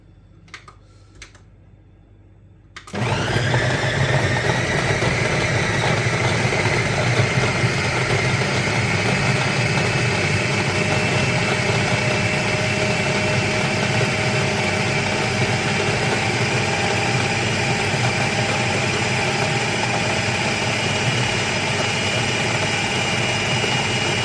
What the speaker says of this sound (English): So I'm going to mix this now into a crumb base